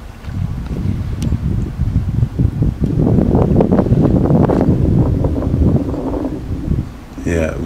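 Strong wind gusts roar and buffet the microphone outdoors on a cold morning at the Port Severn locks in Ontario, loud and continuous, while a person talks underneath.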